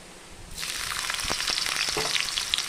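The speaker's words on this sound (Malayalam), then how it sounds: "അപ്പം വെളിച്ചെണ്ണ ഒഴിച്ചു കൊടുത്തിട്ടുണ്ട്" Coconut oil crackles and sizzles in a clay pot on the stove, with the frying starting abruptly and continuing as a dense, close hiss with scattered pops.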